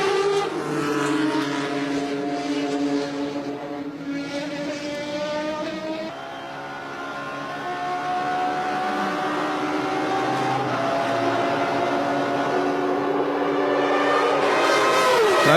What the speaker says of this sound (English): So quite a motor race going on here between the leading Toyota and the leading Peugeot.